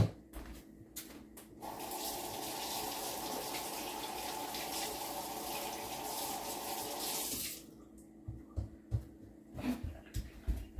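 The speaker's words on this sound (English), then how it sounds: "I'll rinse these off." A kitchen tap runs steadily for several seconds as eggs preserved in a waterglass solution are rinsed beneath it, then cuts off, leaving a few soft clicks and handling knocks.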